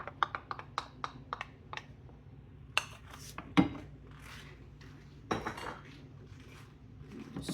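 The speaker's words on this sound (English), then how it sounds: "Take a little bit, put it in the egg yolks. And stir that in." Spoon clinking against a bowl while tempered hot custard mixture is stirred into egg yolks, a run of sharp, bright taps early on, then a few louder scattered clinks, close by with no talk.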